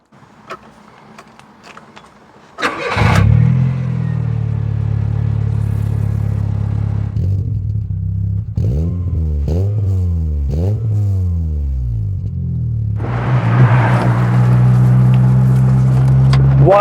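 An old Rover 100 engine starts with a sharp catch, then idles and revs with a throaty, loud exhaust, pitch rising and falling in several blips.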